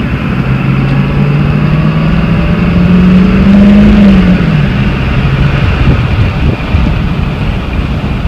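A Ford 7.3 Powerstroke diesel truck fitted with a custom air intake pulls away from near standstill, its engine droning and rising in pitch under heavy wind and road noise inside the cab, with no voices.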